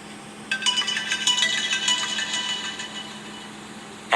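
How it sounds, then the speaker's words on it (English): An iPhone 7 ringtone at maximum volume plays from a phone sitting in Coke, a bright repeating melodic pattern that starts after a brief pause, rings loudly and evenly for a few seconds, and fades slightly toward the end. "We're going to play a ringtone here."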